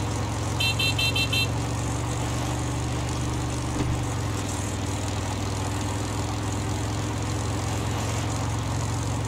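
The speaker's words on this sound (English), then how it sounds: "there's a helicopter right there" A helicopter in the video game Far Cry 6 gives a steady, droning engine and rotor rumble throughout. A brief burst of short electronic beeps sounds early on, and no one talks.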